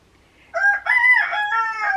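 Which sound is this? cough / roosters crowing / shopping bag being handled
roosters crowing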